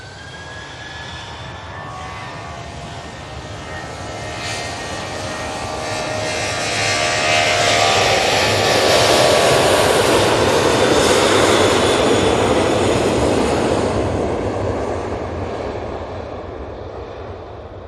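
A Boeing 737-800 airliner takes off from Manchester Airport, its jet engine roar swelling from a distant rumble to a loud, broad sustained blast that peaks mid-way and then slowly fades.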